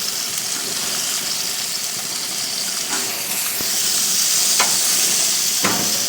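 A pork chop and sausage sizzle steadily on an infrared gas grill, a loud close hiss with a few sharp taps and scrapes as the meat is turned and rolled.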